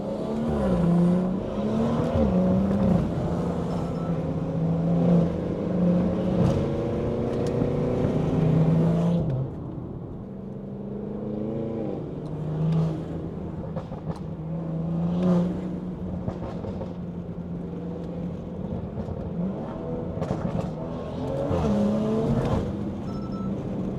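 A loud BMW 340 exhaust droning and rising through revs, with engine tones climbing and falling repeatedly over about twenty-four seconds, sounding close and sustained, with a brief easing near the middle.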